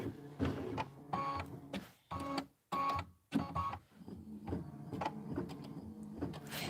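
An embroidery machine stitches berry fills on a winter design, its rapid mechanical chatter running in short bursts separated by brief silent gaps, then settling into steadier stitching.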